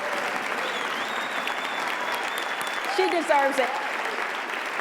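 A church congregation applauds at length, a steady wash of many hands clapping throughout, while a speaker's voice comes through briefly over it near the end.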